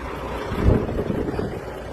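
Steady desert wind rumbling against the microphone, a low buffeting roar with one stronger gust partway through, no voices.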